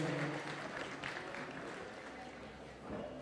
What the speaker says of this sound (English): Round of applause for Faith